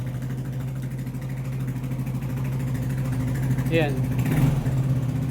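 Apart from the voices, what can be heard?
Yamaha Nmax 155 V2 scooter engine starting and idling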